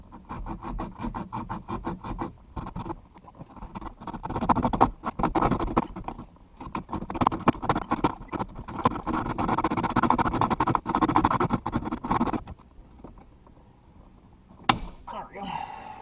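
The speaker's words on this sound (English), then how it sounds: "I have to cut this little piece back here out with a hacksaw" A hacksaw blade rasps back and forth through a small piece of a car radio mount in a 2000 Pontiac Trans Am, with steady close-up strokes for about twelve seconds before it falls quiet.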